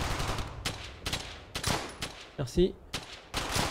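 A Thompson submachine gun fires in the World War II shooter game Brothers in Arms: Hell's Highway, with loud, close bursts repeating in quick succession and a brief spoken word in a gap between shots.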